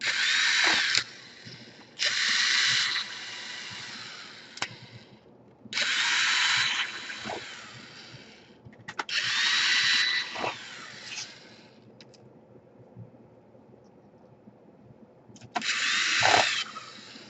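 Short fat screws are driven into the hinge area of an Asus X54L laptop with a power driver, which whines in five separate bursts of about a second each, separated by quieter handling clicks and taps.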